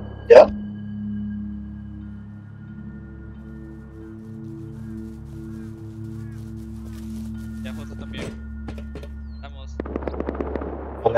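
Gunfire in the video game Rust: a sharp shot at the start, a quieter sustained hum, another distinct crack later, then a rapid burst of shots near the end, with voices talking over it.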